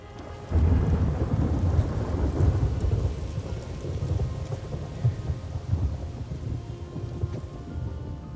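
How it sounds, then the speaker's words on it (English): Video game sound from Days Gone: low, rolling rumble of distant thunder swelling after a brief quiet start, over a steady wash of falling rain. "Days Gone does a good job with distant thunder."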